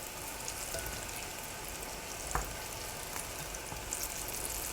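Eggplant deep-fries in hot oil with a dense, even crackle and hiss, close and moderately loud, broken by one brief knock, with no voices.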